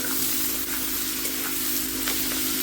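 Potatoes fry in oil in a home kitchen pan, giving a loud, constant close sizzle with faint clinks, no voices over it.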